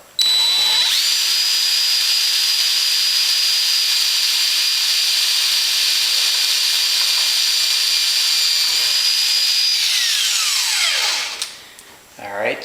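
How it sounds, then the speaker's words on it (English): A power drill whines steadily and loudly close by as it bores a hole in an RV-7 aircraft wing tank Z bracket, holding a constant high pitch for about ten seconds before spinning down. "make sure my fingers are out of the way, and drill it."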